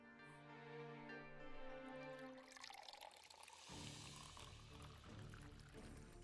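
Water pours from a jug or tap, starting as a trickle and swelling into a steady fill, close and clear with no talking.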